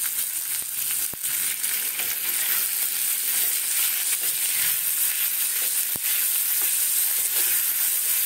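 Potatoes frying in a pan, salted while cooking: a continuous bright sizzle with occasional stirring clicks and scrapes, steady and close, with no talking.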